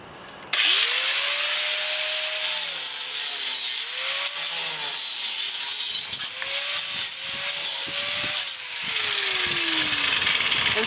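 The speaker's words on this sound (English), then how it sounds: "I use my grinder." An angle grinder cuts copper off scrap for recycling, whining loud and steady for about ten seconds with its pitch dipping and rising as the disc bites and eases through the metal, close up with no talking.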